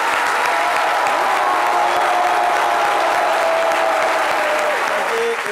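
Sustained applause from a large crowd at a tribute to farmers, steady and dense throughout, with a faint murmur of voices mixed in.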